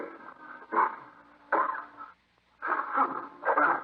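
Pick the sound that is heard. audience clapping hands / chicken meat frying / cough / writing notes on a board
cough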